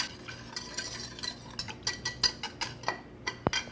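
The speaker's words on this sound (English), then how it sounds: "I'm just going to give this a little whisk. Stir it all together." A whisk beating arrowroot thickener into a sauce, quick rhythmic ticking strokes against the bowl, steady and close, growing a little louder toward the end.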